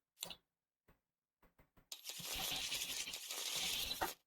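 A deck of cards is riffled and shuffled close by, a few light taps first, then a sustained papery flutter of cards for about two seconds.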